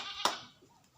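A goat gives a single short bleat, loud and close, fading quickly into quiet farmyard background.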